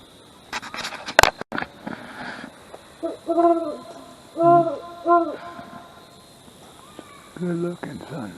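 An owl hoots at Hungry Mother State Park in Virginia: several soft, low, hollow calls in short groups, moderately distant, against quiet woodland with a few faint knocks and rustles.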